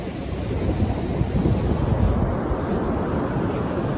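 Sea waves at Mypadu beach roll in as a steady, broad wash of surf, loud and continuous with wind noise mixed in, and no voices.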